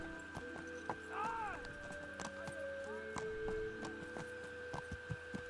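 Horse hooves clip-clop at an even walking rhythm in the medieval game Kingdom Come: Deliverance, with a brief whinny and sustained tonal game sounds humming underneath.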